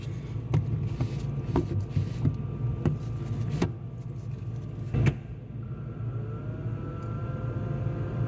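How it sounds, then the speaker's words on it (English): The fan motor of a GE side-by-side refrigerator with a cooling fault hums steadily and close by, with several sharp clicks and knocks over the hum. "Now the motor's on."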